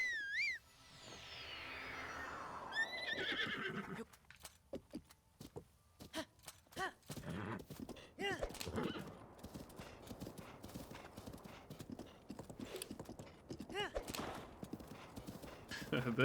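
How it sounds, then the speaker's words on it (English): Horse hooves clip-clopping with an occasional neigh in The Legend of Zelda: Breath of the Wild, a steady trotting rhythm running through the clip under game music and people talking. "True Horse, get over here."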